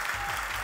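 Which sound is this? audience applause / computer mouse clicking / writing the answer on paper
audience applause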